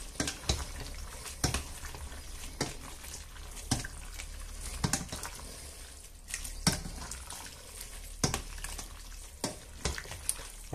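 Sausages and sauce being stirred in a steamy pan, with a soft continuous sizzle broken by repeated sharp scrapes and clacks of the spoon against the pan, close and moderately loud, no talking.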